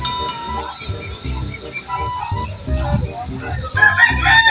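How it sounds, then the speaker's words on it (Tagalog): A rooster crows amid a busy outdoor scene, with people talking and shouting nearby over steady background noise. "Siya ang manok dito."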